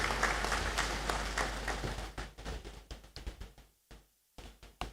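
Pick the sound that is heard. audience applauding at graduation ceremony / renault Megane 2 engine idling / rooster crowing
audience applauding at graduation ceremony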